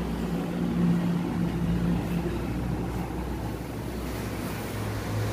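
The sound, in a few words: rice grinding machine motor running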